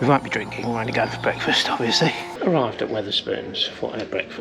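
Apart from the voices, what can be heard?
No everyday noises stand out.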